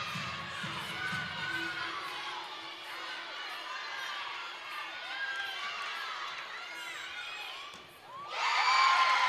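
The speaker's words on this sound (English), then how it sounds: "as you hear the crowd erupt here in Rec Hall" A large indoor crowd at a women's gymnastics meet in Rec Hall murmurs and cheers with shrill shouts, then erupts into a loud roar of cheering as a gymnast sticks an uneven bars dismount.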